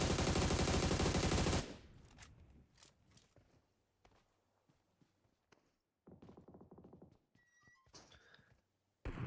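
Gunfire in a battle royale game during a WCL small final stage match: a loud sustained burst of rapid automatic fire opens, then scattered single shots and thuds, with another short burst near the end.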